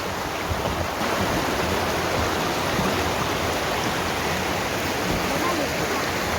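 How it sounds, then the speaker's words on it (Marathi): Water flows steadily in a stream near a roughly 150-year-old British-era dam outside Navi Mumbai, a constant loud rushing wash heard up close without pause. "आपण पाहू शकता किती सुंदर असा ओढा इथे वाहतो आहे"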